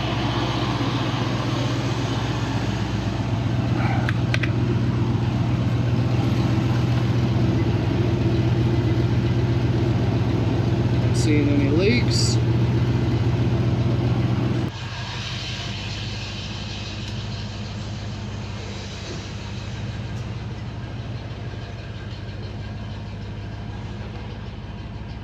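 A rusted 1987 Ford Mustang convertible's engine idling while warming up, a steady low hum with a constant tone that drops slightly partway through, close, with a brief spoken remark over it.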